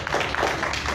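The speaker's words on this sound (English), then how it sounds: "let's give the Lord a hand clap of praise" Church congregation clapping hands together in praise to the Lord, a dense, steady wash of many hands at close range, continuous with no pauses.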